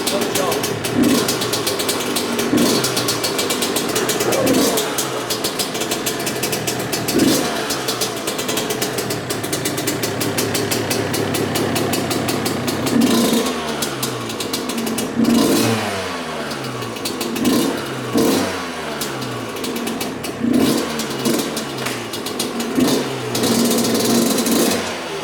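A worn 1995 Yamaha YZ125 two-stroke dirt bike runs close by in a rebuild setting, buzzing at idle and then revving in repeated rising bursts, with people talking over the engine.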